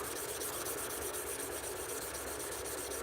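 Steady, even scratching of an edge being rubbed back and forth on grit paper, close and continuous with no pauses and no voices.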